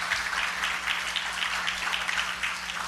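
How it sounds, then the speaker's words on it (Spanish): A church congregation applauding during a worship service, a continuous even patter of many hands clapping at moderate loudness, with a steady low hum underneath. "Dele aplauso fuerte al Rey."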